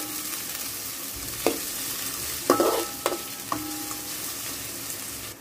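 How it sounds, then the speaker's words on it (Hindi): Chopped onions dropped into hot oil in a pot for tempering, giving a steady frying hiss with a few sharp stirring clatters from the pan, close and with no one talking. "तो इसके अंदर मैं डाल रही हूँ कांदा बघार के लिए, तेल मैंने डाल दी हूँ तपेली में"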